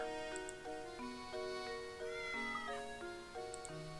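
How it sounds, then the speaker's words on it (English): Cat meowing in the Professor Layton and the Curious Village video game, repeated mews heard over a steady tinkling, chime-like game music with no talking. "Cat's still meowing."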